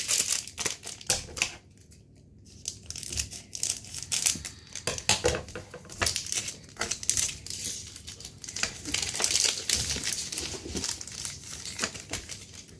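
Foil booster packs of One Piece OP04 trading cards being cut open and handled, a steady run of close crinkling, crushing and snipping rustles with no talking.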